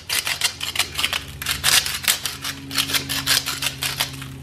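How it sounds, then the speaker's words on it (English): Pepper grinder cranking out pepper over spaghetti squash halves, a rapid run of dry clicking, ratcheting crunches repeating steadily for several seconds, close and fairly loud, with a faint low hum underneath and no talk. "this is the worst pepper grinder ever, but we're going to get some pepper on here"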